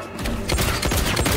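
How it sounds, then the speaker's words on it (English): Rapid gunshots in Mortal Kombat 1 during a tournament grand final, a dense burst of quick cracks over a second with a heavy low rumble, no clear talk. "Gunshots."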